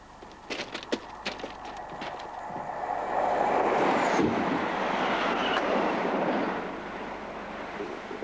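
A train passes on a British railway line, its rolling roar swelling to a steady loud rush in the middle and then easing off, with clicking wheel sounds near the start.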